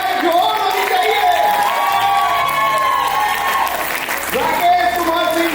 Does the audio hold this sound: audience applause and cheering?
yes